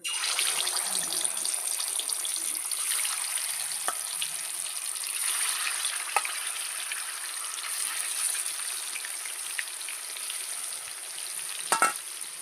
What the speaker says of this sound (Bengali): তেলটা আমার গরম হয়ে গেছে, মাগুর মাছটা ভেজে নেব।